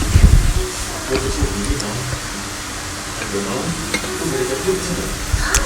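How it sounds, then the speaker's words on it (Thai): Fresh shrimp stir-cooking in a pan, a soft, continuous sizzle with scraping stirs and a louder clatter at the start, heard close up under a voice. "เราก็จะนำกุ้งมาลวนก่อนของผมประมาณ10 ตัวนะฮะ"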